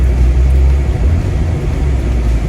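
Steady engine drone and road rumble from a Porsche 924S driving along with the engine pulling and the AC running, continuous and fairly loud without letup.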